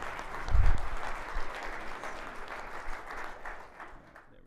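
An audience applauds after a product demo at a corporate keynote on AI-powered team communication, clapping swelling early and then thinning gradually toward the end.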